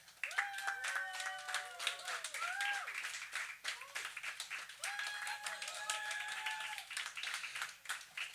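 Audience applause and cheering for a comedian at a one-minute comedy showdown, a steady wash of clapping and voices lasting several seconds, with whistles and shouts rising over it, fading near the end.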